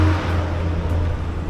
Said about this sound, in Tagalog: ingay ng jeep